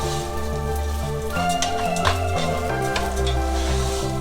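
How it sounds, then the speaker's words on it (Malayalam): Rice for a Thalasseri beef dum biryani is roasted in a pan, giving a steady, close sizzle and stirring under louder background music, with no talk. "അരി ചേർത്തതിന് ശേഷം അതൊന്ന് വറുത്തെടുക്കുക"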